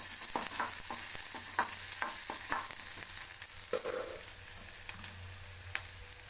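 Onion and green chili frying in a pan, a steady soft sizzle with intermittent scraping and stirring clicks, fairly quiet and alone.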